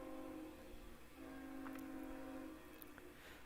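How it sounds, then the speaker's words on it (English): A train rumbles past in the distance, with a long, faint horn tone held for a few seconds under low background noise. "I don't know if you can hear the trains going by."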